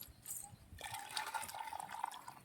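Water is poured into a pot of country chicken curry being cooked in a traditional village kitchen, a soft splashing fill with a faint trickling tone, quiet and close, no voices.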